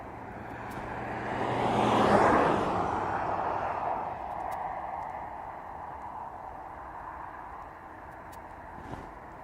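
An aircraft approaching to land at East Midlands Airport: a broad jet roar swells to a peak, then slowly fades and lingers as a distant rumble.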